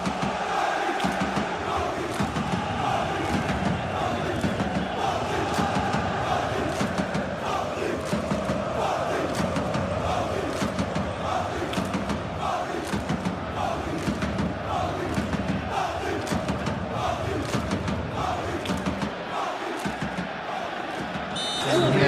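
A packed stadium crowd in the PES 21 football video game, at a PSG vs Bayern Munich Champions League semi-final, makes a continuous loud roar of cheering and chanting that stays dense and even throughout.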